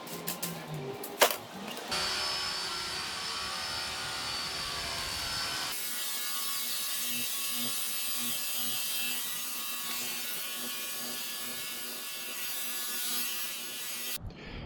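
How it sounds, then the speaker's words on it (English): A Dewalt 20V cordless power washer cleans a driveway with a steady mechanical whine and spray hiss, preceded by a few clicks and a brief rattling start, then running evenly until it stops. "Cordless power washer to clean this driveway."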